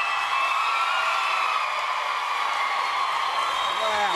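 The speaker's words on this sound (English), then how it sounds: "The crowd's going off." A studio crowd at a Big Brother Australia eviction cheers in a dense, loud, continuous roar of many voices that holds steady throughout.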